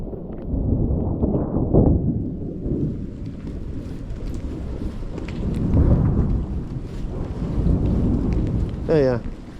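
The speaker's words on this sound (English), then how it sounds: "I'm not afraid of being out in a thunderstorm." Thunder rumbles with steady rain during a coastal thunderstorm at West Wemyss, a loud low roll swelling twice over continuous broadband rain noise, with a brief voice near the end.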